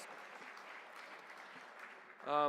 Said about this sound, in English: Yes, worthy of applause.